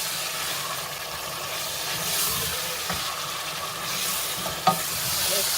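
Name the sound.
Ghana stew base frying in a pot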